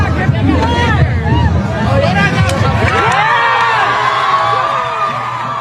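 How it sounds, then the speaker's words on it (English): A crowd at a street protest where American flags are pulled down and Palestinian flags raised, with loud babble, shouts and whoops from many voices that swell into cheering partway through. "They're cheering."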